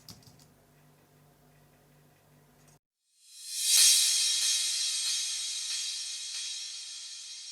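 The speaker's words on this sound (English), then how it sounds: "this second track over here is the same crash cymbal but reversed," A psytrance crash cymbal sample layered with a reversed crash: after faint ticking, a bright hissing crash swells up and then decays slowly over several seconds, quiet overall.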